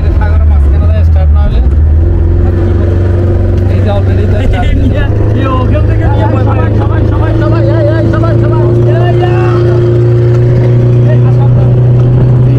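A safari boat motor on a wildlife waterway in Sri Lanka drones loud and steady throughout, a close, constant engine hum with sustained tonal whine and water rush, with voices in the background.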